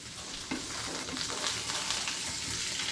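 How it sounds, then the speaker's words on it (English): Homemade sausage frying in a pan gives a steady, dense sizzle and crackle. It sounds close and even, with a few stirring knocks near the start and no voices. "So I'm frying up a sample taste test on the sausage I just made."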